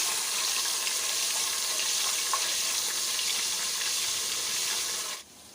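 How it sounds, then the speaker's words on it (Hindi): Ginger garlic paste sizzles in hot oil in a pan as a steady, close, hissing fry that holds level for about five seconds and then cuts off abruptly; no voices. "अब तेल मैंने गरम कर लिया है। इसके अंदर मैं ये अदरक लहसुन का पेस्ट डाल दूँगी।"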